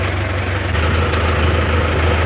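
A tractor engine runs steadily while pulling a 10-foot rotavator in a field, its loud, low, continuous drone holding close with a constant idling throb and no talk.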